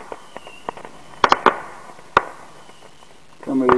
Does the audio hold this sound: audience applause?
no